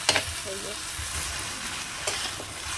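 Vegetables frying in a pan make a close, steady sizzle, broken by a couple of sharp stirring clinks at the start and again near the end.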